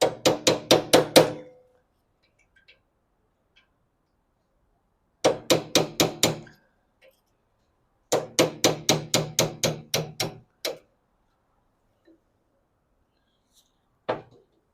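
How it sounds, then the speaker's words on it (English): A hammer taps a punch to drive the clip out of an AE86 distributor held in a vise: sharp metallic taps in quick bursts of five to eight, separated by silent pauses, with a single final tap. "now we're going to punch out the clip."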